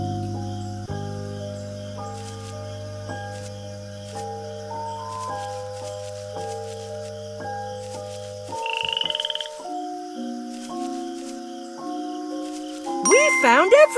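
Bright melodic music from the PBS Kids game Arthur: Moonlight Mazes plays throughout, with a short frog croak in the middle and a twinkly chime at the end.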